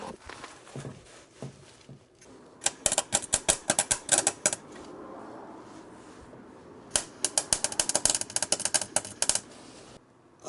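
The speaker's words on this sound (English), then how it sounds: "it's probably not good to be welding near this wood either" MIG welding of splitter mounts on a car chassis, close by: bursts of sharp rapid crackling and popping in two long runs, separated by a quieter hissing stretch, with no talk.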